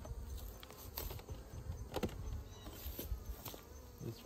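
Honey bees buzzing at a hive being fed fondant make a soft, continuous outdoor hum with scattered close passes of individual bees.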